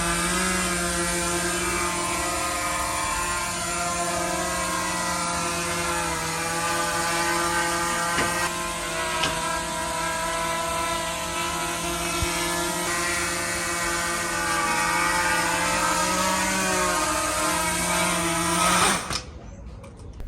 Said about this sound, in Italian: Il drone che rimane stabile perché grazie al GPS e all'optical flow rimane fermo nella posizione